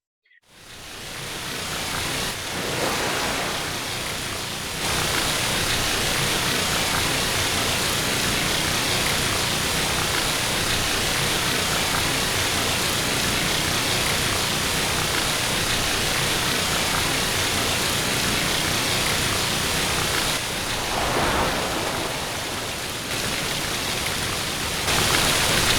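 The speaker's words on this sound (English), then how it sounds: "listening to the waves" Steady, loud broadband wash of surf rolling onto a beach beneath a palm tree, continuous for the whole stretch with slight swells in intensity and no voices.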